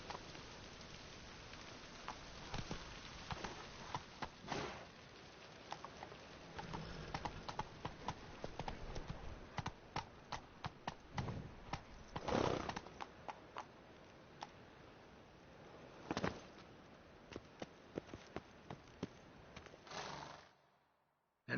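Roach, a horse in The Witcher 3 video game, clip-clops along in a steady run of close hoofbeats with a soft rain-like patter beneath, then pulls up and falls silent.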